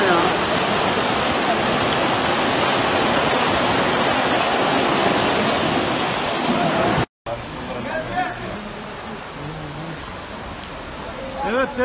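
Floodwater from an overflowing creek after a heavy downpour in Samsun roars loudly and steadily, a dense rushing wash that cuts out briefly and then resumes with voices speaking over it.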